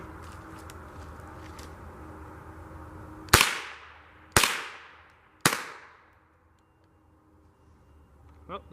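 Three sharp .22 LR rifle shots fired at a fake lizard target outdoors, about a second apart, each a loud crack with a short decaying tail, followed by quiet.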